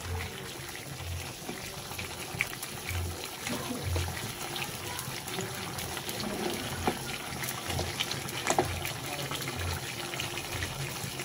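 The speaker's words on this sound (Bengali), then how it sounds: "আমি আলতো হাতে এটাকে একটু নেড়ে দিচ্ছি।" Native chicken being gently stirred in a cooking pot, giving a soft, steady wet sloshing and trickling of liquid that runs without a break and stays fairly quiet, with no one talking.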